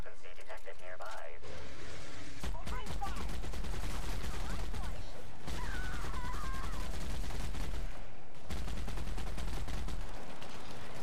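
Gunfire in The Outer Worlds, a series of rapid shots and bursts with game music and effects underneath, broken by brief pauses, while a person talks over it.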